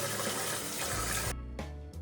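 Tap water runs and splashes at a sink as a face is rinsed, a continuous close gush that breaks off into short choppy splashes and stops near the end.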